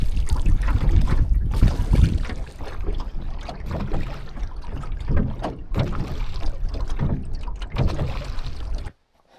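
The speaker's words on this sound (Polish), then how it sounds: "Łódka." A rowboat crossing a lake, with close, loud bursts of water slapping and splashing mixed with strong wind buffeting the microphone, ending abruptly.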